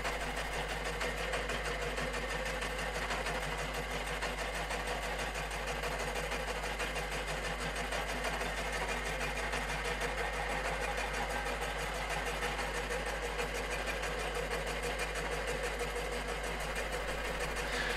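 A machine tool takes a finishing cut on a Bond Minicar steering part, giving a steady, continuous mechanical whir with a constant low hum, even and unbroken throughout with no talking.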